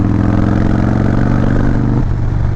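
A 2017 Harley-Davidson CVO Breakout V-twin engine rumbles loud and close while riding, its steady low throb dropping in pitch near the end as the throttle eases.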